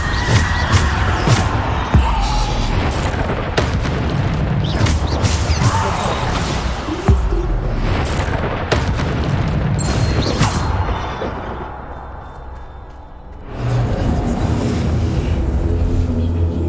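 Spell impacts from Descendo and other combat spells in Hogwarts Legacy gameplay land as a dense run of loud crashing booms and bursts, with a brief quieter lull before the clamor resumes.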